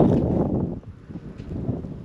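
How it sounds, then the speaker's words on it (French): Wind gusts strongly across a microphone outdoors during straw collection on a farm, a loud rumbling buffet that eases briefly and then picks back up. "Le vent vient de là."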